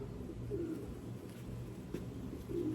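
Soft, low coos from a breeder pigeon at a loft repeat a few times nearby over a quiet background hum, with a faint tap in between.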